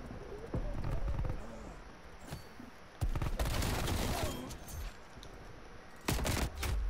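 Mac-10 submachine gun fire in the video game Call of Duty: Black Ops Cold War, with sharp automatic bursts and sudden loud volleys under someone talking.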